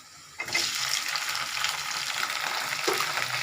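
Tomatoes drop into a hot pan for vegetable kurma and burst into a loud, steady sizzle that holds close and continuous to the end, with a brief extra crackle near the close.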